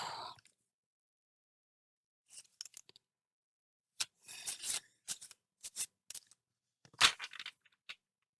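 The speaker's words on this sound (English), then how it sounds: "Just gonna give them a light shuffle." Short bursts of cards being riffled and snapped together, a few quick flutters separated by pauses, close and fairly quiet.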